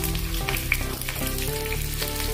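Crushed unpeeled garlic and curry leaves crackle and sizzle in hot oil for a spinach dish, a steady close hiss with scattered pops and no talking.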